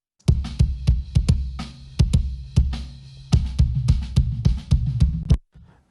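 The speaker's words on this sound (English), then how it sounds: "So let's listen to what the kick sounds like this." Repeated thumping kick drum hits in an uneven groove, boomy and dull with a hollow, thin low end, played alone; an out-of-phase recording combining an inside kick mic and an outside sub kick.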